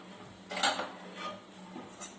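A cooked semolina and milk mixture is scraped from a pan onto a plate, giving faint metallic scrapes and clinks of a utensil against cookware. There is one clearer clank and a few soft scrapes after it.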